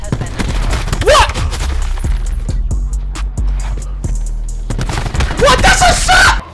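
Rapid gunfire in Black Ops 4, a run of close, evenly spaced shots in the middle, framed by louder excited talking at the start and end.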